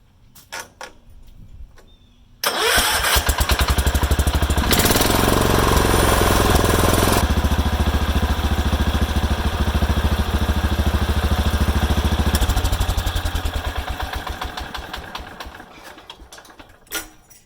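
A Power King garden tractor's small engine cranks and catches, then runs loud and steady at a rough idle, with its pitch shifting as it settles before winding down.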